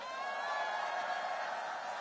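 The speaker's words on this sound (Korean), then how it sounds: "우리 위대한 우리의 이웃들을 위해서 큰 박수 한번 보내주세요." Distant crowd at an outdoor campaign rally in Paju, cheering and clapping blended into a steady faint roar, with no voice standing out above it.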